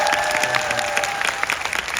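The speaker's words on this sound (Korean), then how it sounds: "이준익 감독님과 정진영 선배님께 뜨거운 박수 한번 부탁드립니다" Warm applause from a cinema audience at a film screening Q&A in a Coex Megabox theater, honoring a director and an actor; dense, steady clapping fills the room with a faint tonal hum beneath and no talk.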